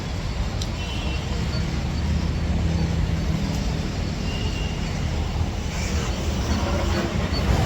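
Ambience at KSR Bangalore railway station during rain: a dense, steady rumble of trains and traffic-like noise, loud and continuous, with no clear individual events.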